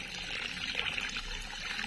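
Water poured slowly and steadily from close by to flush pests out of a plant pot, a soft continuous trickle with no talking.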